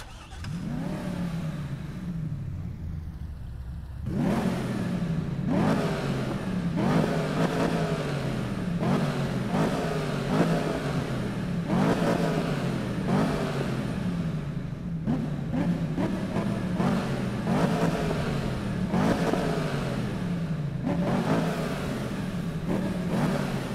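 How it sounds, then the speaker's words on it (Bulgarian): A Camaro Z28's 7-litre LS7 V8 revs repeatedly in Need for Speed (2015), loud rhythmic bursts over a steady rumble, each rev rising and falling. "с това Camaro Z28 и неговия чудовищен 7 литров LS7 двигател"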